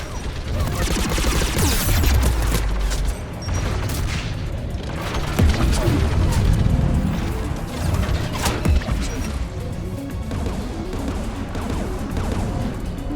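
Turret gunfire in Mass Effect 3 combat: dense, continuous bursts of shots and crashing impacts pile up loudly across the whole stretch, with occasional voices mixed into the battle noise.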